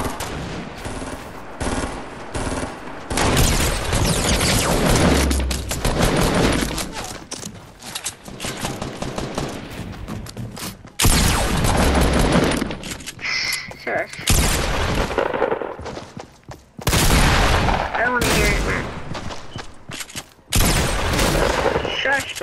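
Fortnite gunfire crackles in heavy bursts with sharp sniper cracks between them, loud and frequent and broken by brief lulls, while players talk excitedly over the fighting.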